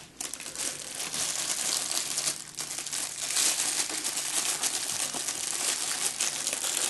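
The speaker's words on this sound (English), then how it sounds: "So let's start unwrapping it and see where we go." Crinkly wrapping being peeled and crumpled off a flute's head joint and body, a continuous close rustle and crackle of plastic or paper with no voices.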